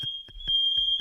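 A smoke alarm sounds in a house, a steady piercing high tone running throughout, with short low thumps and bursts of noise underneath.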